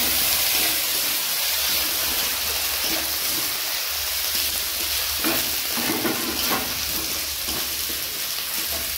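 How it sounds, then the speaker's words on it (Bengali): Chopped tomato sizzles loudly in a pan of gugli snails with ginger and chili paste, a dense continuous hiss with occasional stirring scrapes, close and steady throughout. "টমেটো কুচি দিয়ে দিচ্ছি।"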